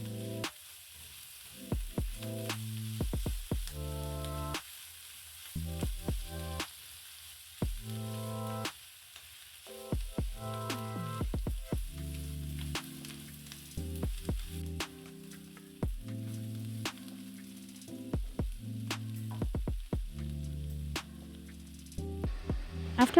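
Samosa filling with spring onions and coriander frying in a pan makes a faint, steady sizzle, punctuated by repeated sharp clicks and scrapes of mixing.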